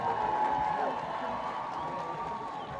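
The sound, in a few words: graduation audience clapping for graduates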